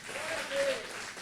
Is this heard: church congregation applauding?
yes